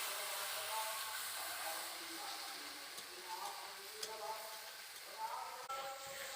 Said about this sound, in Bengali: মশলাটাকে এবার ভালো করে আমি কষিয়ে নেব তেলের মধ্যে